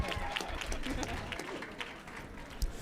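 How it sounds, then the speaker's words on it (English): A panel discussion audience at a science night event claps steadily for a panelist, with dense, fairly close applause holding at an even level throughout. "let's get a round of applause for Tara"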